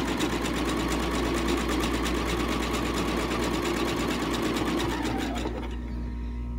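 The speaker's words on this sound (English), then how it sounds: "I'm going to be sewing over that a few times just to keep that all pulled in." A sewing machine stitches repeatedly over the frayed edge of fabric for a dough proofing bowl, a loud, rapid and even mechanical chatter that runs steadily, then eases off in the last second.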